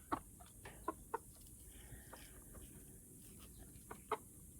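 A caged rooster clucks in a farm pen, giving a few sharp, separate clucks spaced across the stretch against a quiet outdoor hiss, close and moderately loud.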